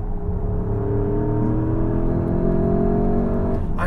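A 2021 Porsche Cayenne GTS engine under throttle gives a loud, steady droning growl that rises slightly in pitch, with a brief whoosh at the very end. No one talks.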